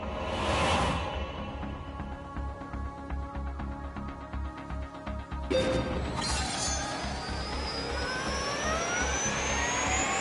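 A car lapping a circuit in The Grand Tour video game, a continuous engine roar that surges and whooshes past midway, then climbs again with rising revs.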